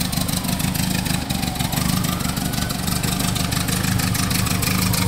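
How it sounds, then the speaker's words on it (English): A 1973 Avenger GTX GT40 replica with a beefed-up Volkswagen engine idles steadily and loudly throughout, a continuous low rumble with a faint rhythmic chug and no talking. "It's got a beefed up Volkswagen engine, putting out plenty of power."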